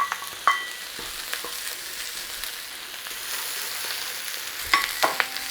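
Garlic and ginger frying in a little oil in a stir-fry pan for a Mongolian chicken dish, a steady soft sizzle with occasional sharper crackles and a couple of utensil clicks against the pan.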